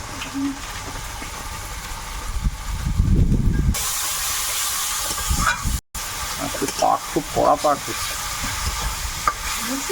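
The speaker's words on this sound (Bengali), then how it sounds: "একটু জল দেব মশলাটা কষিয়ে নেব" Spice paste for chicken biryani, with coriander powder and Kashmiri chili powder, sizzles and hisses steadily as it is sautéed with a splash of water and stirred in a pan, swelling into a louder burst partway through.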